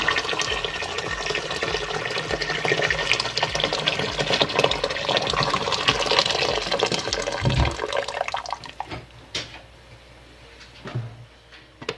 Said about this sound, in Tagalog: Dagdagan pa natin yung sabaw niya.